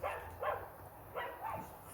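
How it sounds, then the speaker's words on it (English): Several dogs bark up the road at a distance, in short irregular bursts of two or three barks separated by brief pauses, moderately loud over a quiet outdoor background. "dumb dogs keep barking up the road"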